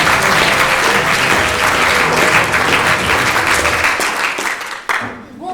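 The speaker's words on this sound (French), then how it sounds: "je vous demande d'accueillir sous un tonnerre d'applaudissements Monsieur Charles Perrault" Loud, sustained audience applause fills a school hall performance at Collège St Privat in Mende, welcoming a character playing Charles Perrault; dense clapping holds steady, then thins and dips near the end.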